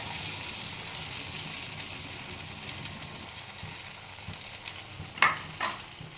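Handvo batter with cumin seeds frying in a hot pan gives a steady soft hiss, then two sharp, crackling sizzle bursts near the end, heard close with no talk.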